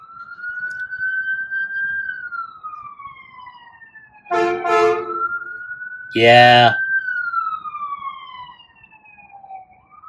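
An emergency siren wails in long rising and falling sweeps, moderately near, while someone speaks briefly over it twice.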